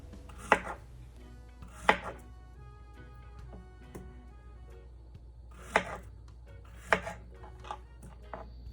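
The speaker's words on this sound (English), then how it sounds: "Now you want to cut your plantain into pieces that are about 1 inch thick." A knife chops plantain into one-inch pieces on a cutting board: sharp, separate thunks in small bursts of two, with pauses between them and a quiet background.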